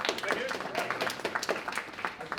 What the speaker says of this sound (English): could we also have another round of applause for Lee?